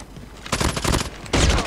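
Rapid automatic gunfire from the mobile shooter Call of Duty Mobile, two loud sustained bursts separated by a short pause, close and dominant with no talking.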